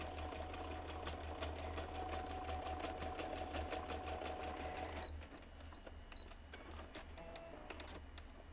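A sewing machine stitches through cardstock with a fast, even mechanical chatter and a low hum for about five seconds, then stops, leaving a few faint clicks and handling noises.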